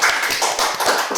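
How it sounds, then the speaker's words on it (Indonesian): Dense, steady applause from a live talk-show audience, many hands clapping at once in a continuous broadband rush that lasts the whole short moment with no voices over it. "Luar biasa, tepuk tangan."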